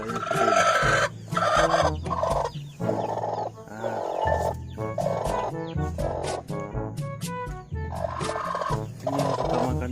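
Chickens, including a hen that eats its own eggs, cluck and call loudly and close up in a series of squawks and crowing-like cries, with no speech.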